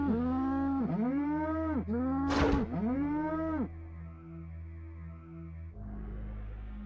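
A cow in the South Park video game lets out several long, loud moos in quick succession over a low electronic game hum, followed by quieter background tones.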